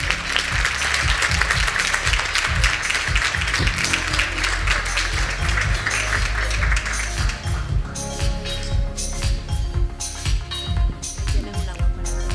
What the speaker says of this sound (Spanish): recibamos con un fuerte aplauso a Mirka de Llano